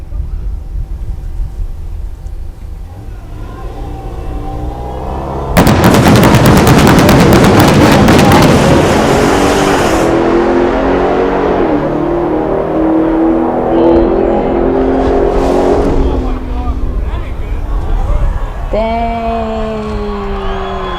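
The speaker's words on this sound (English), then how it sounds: "The Demon170 launches at over 2 Gs" A Dodge Demon 170 launches with a sudden, loud roaring engine blast that rumbles on for several seconds, followed by a crowd whooping and cheering over lingering noise.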